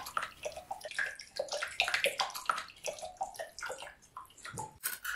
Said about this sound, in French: apprécier l'écoulement de l'eau et le mécanisme fonctionnel